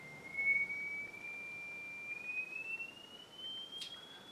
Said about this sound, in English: when you get to the high frequencies, they sound pretty screechy